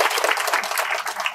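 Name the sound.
loud round of applause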